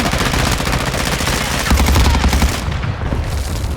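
Dense, continuous rapid gunfire with heavy low booms in the video game Call of Duty Warfare 2, a loud unbroken barrage of automatic shots throughout.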